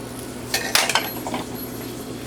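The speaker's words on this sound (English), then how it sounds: "We got our sauce cooking down just right." Onion cheddar cheese sauce cooking down in a pan, soft sizzling under a few clinks and scrapes of utensils against the pan.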